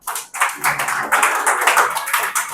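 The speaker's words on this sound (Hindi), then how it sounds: "तो फिर जोर से तालियां बजाओ" A church congregation claps loudly together, sharp rapid rhythmic claps in close, steady bursts with no talk over them.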